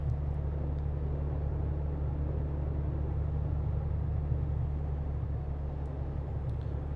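Motorway traffic passing a truck in Euro Truck Simulator 2 on a French motorway, a steady low engine drone and road rumble with no distinct pass-bys, moderately quiet.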